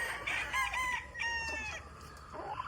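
A rooster crows nearby, a drawn-out cock-a-doodle-doo with a few clucks around it, fairly faint against a quiet background.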